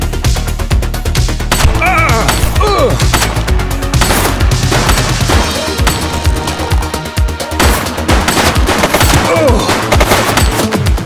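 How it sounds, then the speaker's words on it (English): Dense, sustained gunfire from a police shootout in the video game The Precinct, loud rapid bursts of automatic and single shots overlapping with impacts and crashes throughout, under a faint voice. "Shots fired!"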